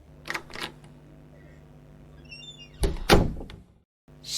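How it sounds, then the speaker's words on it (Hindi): A door being opened, with a few soft creaks and knocks, then a louder burst of rattling and thumps near the end, followed by a brief silence. "दरवाज़ा खोलने पर"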